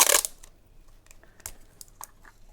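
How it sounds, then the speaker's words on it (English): Tape being worked while matchboxes are held firmly and taped together: a sharp crackling rip at the start, then sparse faint ticks and small crinkles from the tape and cardboard boxes, close and quiet. "Just very carefully hold them nice and firmly together and tape."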